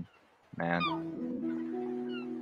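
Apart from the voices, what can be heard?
seagulls at the beach in the Pavia metaverse video game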